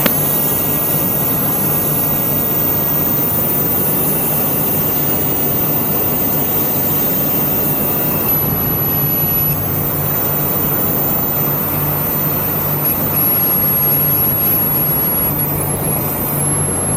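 A small propeller airplane's engine drones loud and steady as it rolls for takeoff on a runway, a constant broadband roar with no talk over it.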